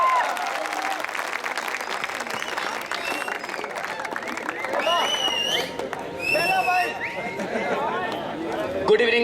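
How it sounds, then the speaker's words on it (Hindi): Loud audience applause and cheering fill a kavi sammelan (poetry recital) at a college fest, welcoming a poet on stage, with steady clapping and crowd chatter throughout. "जोरदार तालियों से स्वागत करें भाई"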